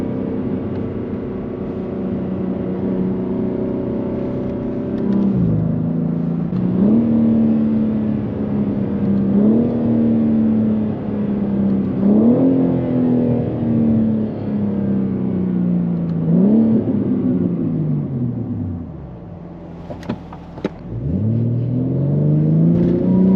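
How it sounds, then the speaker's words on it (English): A 700 hp Genesis G80 launches hard from inside the cabin, the engine climbing through several loud rising pulls with gear shifts between them, then easing off before a brief final surge. "Let's see if we can get a launch."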